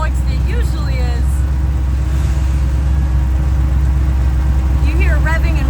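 Off-road vehicle engines rumble and rev steadily throughout on a muddy, rocky trail, with low throaty drone from several vehicles nearby and faint higher whines rising and falling.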